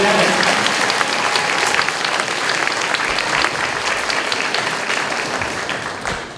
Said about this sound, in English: we have a round of applause for Commander Bennett